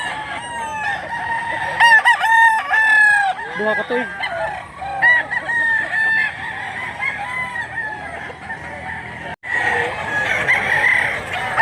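Roosters crow repeatedly at a market in Mantalongon, Cebu, several calls overlapping with clucking and a busy outdoor background while people talk nearby.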